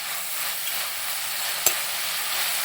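Sliced onions sizzle steadily in a hot pan for a Kerala-style fish molly, a soft even frying hiss with one brief sharp clink of a utensil midway; no voices.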